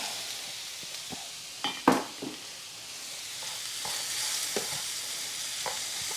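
Shrimp sizzling in a pan with a steady crackling hiss, punctuated by several spoon scrapes and a couple of louder knocks against the pan as it is stirred, with no voices.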